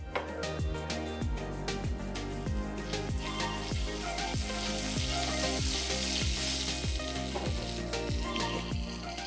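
Dried red chillies, fenugreek and cumin fry in hot oil for a grated raw mango pickle, a continuous close sizzle over a strong low hum with regular soft clicks throughout.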